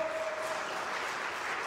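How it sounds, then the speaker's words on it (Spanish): An audience at a priest's talk applauds in a dense, sustained patter of many hands, heard from some distance with no voices over it. "Eso merece un aplauso, ¿no?"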